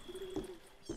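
A pigeon in the video game The Supper gives a soft, low coo, faint and close, with a brief second coo near the end over a quiet background hum.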